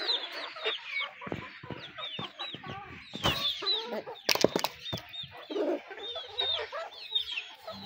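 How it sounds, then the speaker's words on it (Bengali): Chickens, a rooster and hens clucking and squawking as they feed, a busy overlapping chorus of calls close by with occasional wing flaps and rustling. "দেখেন মোরগ আর মুরগি খাচ্ছে এবার"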